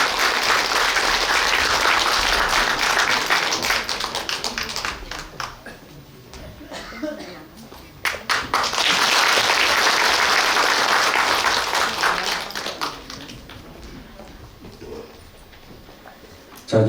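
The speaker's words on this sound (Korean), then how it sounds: "자, 큰 박수로 맞이해 주시면 대단히 고맙겠습니다." An audience at a housing association general meeting in Korea claps loudly to welcome the chairperson, strong applause for several seconds that thins out, then swells again before fading.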